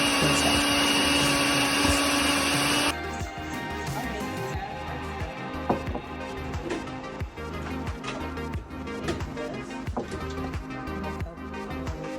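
Blender running at full tilt, chopping pieces of aloe vera: a loud, steady whirring motor with rattling and knocking as chunks hit the blade, alone with no talk.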